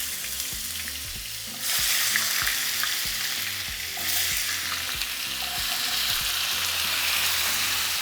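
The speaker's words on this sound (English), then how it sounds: "now to our pan, we're going to be adding 2 small diced potatoes." Small diced potatoes fry in a skillet for a loaded breakfast discada, giving a steady loud sizzle that swells after a second and a half, with repeated low clacks of stirring throughout.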